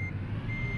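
A city bus reverses in the Mobile Bus Simulator game, giving a steady electronic reversing beep tone over a low engine idle.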